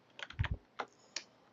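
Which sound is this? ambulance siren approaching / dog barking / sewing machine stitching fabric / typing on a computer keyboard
typing on a computer keyboard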